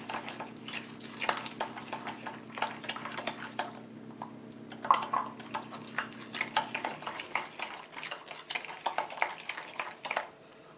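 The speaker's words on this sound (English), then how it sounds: "To the butter, I'm going to add the brown sugar. I'm going to mix the brown sugar a little bit." Butter, brown sugar and cinnamon are stirred together in a bowl for a streusel topping, giving soft, rapid scraping and clinking of utensil against bowl, close and fairly quiet, with a faint background hum for the first part.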